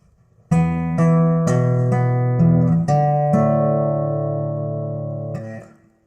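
Finger-style guitar plays the intro measure of a song, with about six clear plucked notes in quick succession, then a final chord left ringing and fading, loud and close, no voice.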